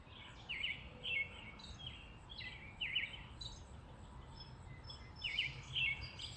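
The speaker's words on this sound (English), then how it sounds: "See, there's a bird over there. Got some birds." Neighborhood songbirds sing in the morning, bursts of bright chirps and twittering calls coming in clusters at moderate distance over quiet outdoor hiss.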